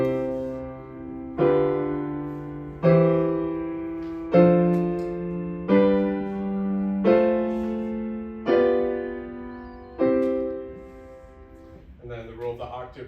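An ascending major rule of the octave is played as a sustained chord progression, seven chords struck one after another at a steady pace of about every one and a half seconds, each ringing and fading before the next, with a brief spoken voice at the very end.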